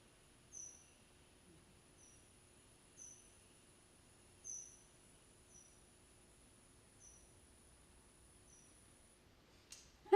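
Bat echolocation calls, slowed down to be audible, come as a string of short, faint chirps spaced about a second apart over quiet background hiss, with a brief louder rustle at the very end.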